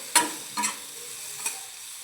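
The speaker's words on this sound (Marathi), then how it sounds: "आता आपण याला व्यवस्थित हलवून घेऊया" A spatula stirs bitter gourd frying with lemon juice in a pan, three quick scraping strokes over a faint sizzle.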